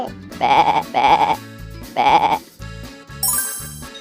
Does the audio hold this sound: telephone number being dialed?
no